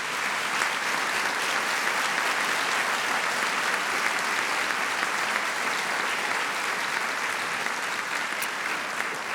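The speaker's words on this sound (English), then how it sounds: "Let's give her a round of applause." An audience at an evening choral arts humanitarian award event applauds, a dense, steady wash of clapping that holds evenly loud throughout, with no talk over it.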